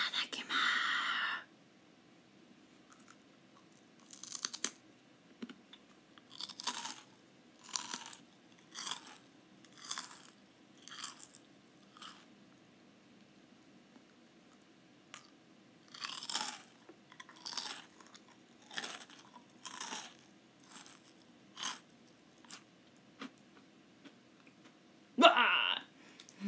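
Close ASMR bites and crunches of crunchy food, a run of sharp, separate crunch bursts with quiet chewing in between, one louder crunch near the end, and no talking.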